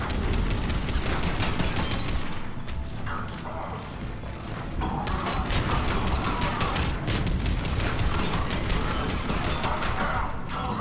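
Enemy gunfire in the sci-fi shooter Mass Effect 3, dense and loud rapid mechanical bursts firing almost continuously alongside heavy combat clatter, with short dips in the barrage.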